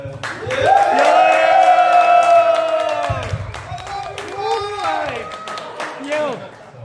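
An audience at a Pi cryptocurrency meetup claps and cheers loudly, with whoops and sustained shouting voices over the applause for about three seconds, then a smaller wave of cheering follows.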